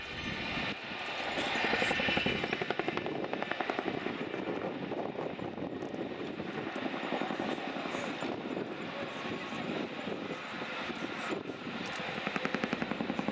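A Boeing Chinook helicopter climbs at full power, pulled to 100% torque during a flying display at RIAT, a loud, continuous rotor and engine roar with rhythmic blade thumping that holds throughout.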